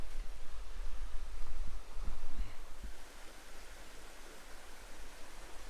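A creek flows beside a hiking trail at Chimney Rock park in North Carolina, giving a steady, even rush of water with a few soft low thumps partway through.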